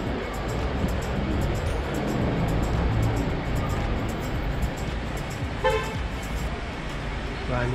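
A car horn honks in street traffic amid the steady rumble of passing road vehicles, a short bright toot standing out late in the stretch while voices talk over the scene.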